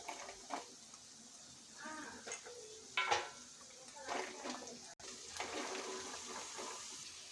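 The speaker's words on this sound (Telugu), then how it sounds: "నెక్స్ట్ కట్ చేసి పెట్టుకున్న చిక్కుడుకాయని వేసుకోవాలి." Chopped broad beans are stirred in a pan, giving soft sizzling with intermittent scraping and clinking of a utensil against the pan, fairly quiet and uneven, with a brief sharp dropout midway.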